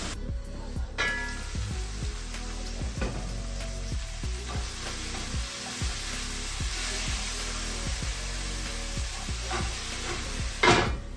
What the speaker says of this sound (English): Mix spices a bit, just to add a little flavor.